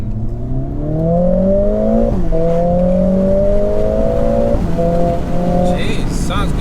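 A 2021 Mercedes A45 AMG S engine heard from inside while driving, a loud, steady drone that climbs in pitch through the gears with brief shift drops.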